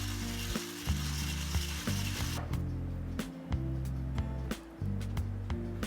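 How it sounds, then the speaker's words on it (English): Egg yolks and sugar are beaten together for a sugee cake, probably with an electric mixer, giving a continuous close whirring hum that shifts in pitch, with scraping and small ticks against the bowl and no talking. "just beat the yolks with the sugar until it forms like a really pale and thick"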